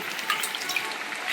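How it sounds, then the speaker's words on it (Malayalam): Glasses of water pour onto rice in a pot for chicken biryani, a close, splashing trickle that runs continuously for a moment. "4 ഗ്ലാസ് അരിക്ക് 8 ഗ്ലാസ് വെള്ളം ഒഴിക്കുക കേട്ടോ."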